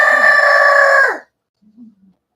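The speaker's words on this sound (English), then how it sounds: "Cock-a-doodle-doo! Better get your ass up." A rooster crows once, loud and close, in a long drawn-out cock-a-doodle-doo on an early morning, followed by a few soft clucks.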